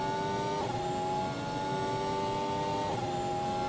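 A Formula 1 car in the F1 2020 video game at Bahrain accelerates at full throttle, its high engine whine climbing steadily with a brief shift-like dip near the middle and another near the end, loud and continuous.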